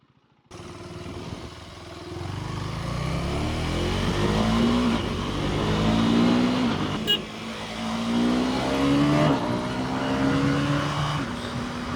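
A KTM Duke 390 in track mode revs up hard. The engine note climbs through several rising pulls as the bike accelerates, loud and close, with no speech.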